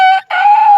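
A voice imitates a rooster crowing, a short loud two-part call with a brief break, voiced close to the microphone during family storytelling around a campfire.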